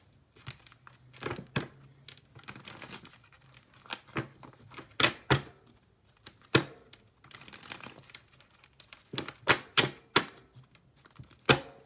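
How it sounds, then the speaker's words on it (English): Tarot cards being shuffled by hand in irregular bursts of crisp riffling and slapping, with short pauses between flurries, close and fairly quiet, with no talking. "Let me shuffle quite a bit."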